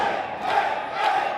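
A wrestling crowd at a live Port St. Lucie show roars and cheers in a steady wash of noise, swelling twice as the crowd surges.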